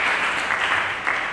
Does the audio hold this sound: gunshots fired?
no